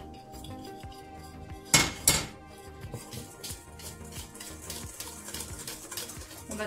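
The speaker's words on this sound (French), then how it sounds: "On mélange bien." Boiled milk is stirred into egg yolks beaten with sugar for a flan, a utensil clinking and scraping against a bowl in a steady rhythm, with two sharp knocks early on, close and moderately loud.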